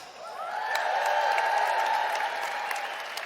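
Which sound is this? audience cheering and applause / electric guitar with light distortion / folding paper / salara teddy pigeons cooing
audience cheering and applause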